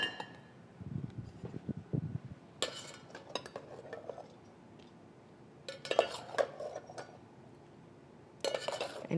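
Kitchen utensils rattled and clinked as someone rummages for a slotted spoon, with bursts of metal clatter separated by quieter pauses, close by and without talking.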